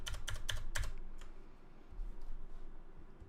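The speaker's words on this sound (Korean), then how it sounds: "키보드 컨트롤 키를 꾹 누르고 있는 상태에서 더하기를 누르면 각이 하나씩 추가가 되고요" Computer keyboard keys pressed during a SketchUp tutorial: a quick cluster of four or five crisp, close clicks at the start, then a couple of fainter taps over quiet room tone, with no speech.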